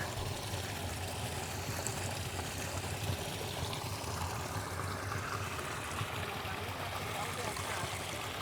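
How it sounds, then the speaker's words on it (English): River water flowing along a mill channel on a trail in Ponce, Puerto Rico, a steady outdoor rush and gurgle heard without a break from start to finish. "That's the water coming from the river."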